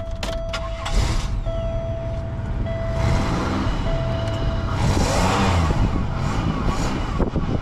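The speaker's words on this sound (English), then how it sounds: "Let's go start the car, see if we can hear the exhaust coming out of the pipe." A car engine starts and idles with exhaust escaping through a punctured exhaust pipe, a close, continuous rumble with brief sharp knocks near the start and no voices.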